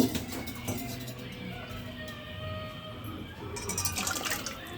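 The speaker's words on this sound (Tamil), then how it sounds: "தண்ணி ஊற்றிக்கலாம்" Well water splashes and trickles steadily into a pot of fish curry, a continuous liquid pouring sound close by with no voices.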